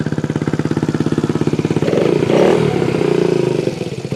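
A Honda Ruckus scooter engine idles while warming up, a close, loud, rhythmic putter that swells briefly in the middle and then settles back to a steady idle.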